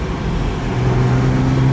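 Engine of a restored 1970 Mercedes 280 SL Pagode pulling hard under acceleration, a steady loud drone with its pitch rising slightly, heard from inside the car on the road.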